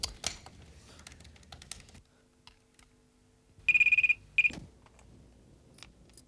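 Several taps on phone buttons, then a short pause before a series of quick electronic beeps sound in two brief bursts, like digits being dialed.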